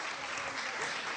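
Studio audience applauding on an Italian live TV talk show set in a piazza, a steady dense wash of clapping filling the whole moment at a moderate level, with no break.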